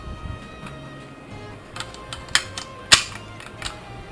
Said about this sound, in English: you drop them into your magazine.